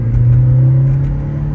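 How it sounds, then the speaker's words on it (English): A 1987 Toyota MR2 engine drones loudly and steadily up close at about 3,500 RPM, a deep sustained hum holding a constant pitch with no talking over it. "This is a really high revving car."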